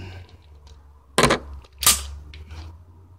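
An Elite Force 1911 airsoft pistol is taken apart, giving two sharp metallic clacks about a second apart over a low background hum, with a few fainter small clicks around them.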